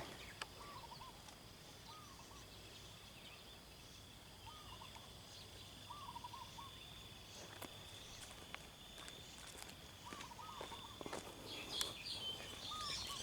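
Wild birds call repeatedly at a wetland, with short chirping phrases recurring at a moderate distance over steady outdoor ambience and a few brief knocks or rustles; no one speaks.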